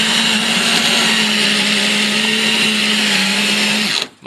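A power drill runs continuously at a steady high whine for about four seconds before cutting off abruptly, loud and close, during restoration work on a Buckminster Fuller dome.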